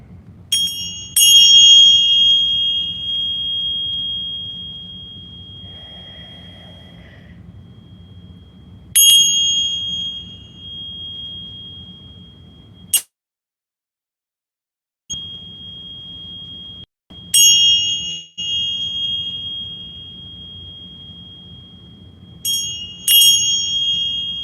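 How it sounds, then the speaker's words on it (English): Meditation bells ring out in clear, sustained tones, struck several times with long decaying rings and quiet pauses between strikes over a low background hum. "So join me as we work with the bells."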